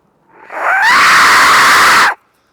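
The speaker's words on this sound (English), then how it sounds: "I'm going to blow this death whistle one more time." An Aztec death whistle blown once: a harsh, piercing screech that swells and bends upward, then holds loud and steady for about a second and a half before cutting off, with no voices.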